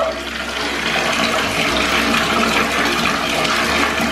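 A bath bomb fizzes in a tub of bath water, a loud continuous rushing, bubbling hiss close to the microphone.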